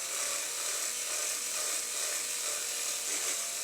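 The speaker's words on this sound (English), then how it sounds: "so I just need to take that little tiny bit of the outside of that rivet off" A small drill bit drills out a rivet on a Dinky Ford Anglia 155 die-cast model car, giving a steady high whirring with slight wavering in pitch, close and continuous with no voices.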